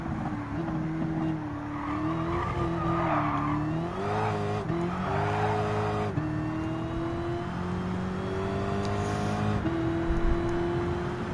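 Race cars roar through a Gran Turismo 7 race, their engine notes rising and falling steadily through gear changes with brief tire squeal, loud and continuous over the whole stretch.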